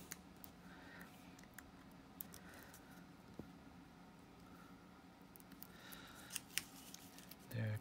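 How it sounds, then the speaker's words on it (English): Scissors snipping tape away from the clear area of a hand-cut stencil, giving quiet scattered clicks and snips over a low steady background hum, with a few sharper cuts near the end. "And then I just gotta cut the tape away from my clear area."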